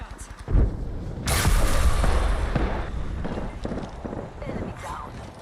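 Gunshots and heavy impacts ring out in Apex Legends combat, with sharp loud blasts and rolling booms under the steady din of the battle while someone speaks over it.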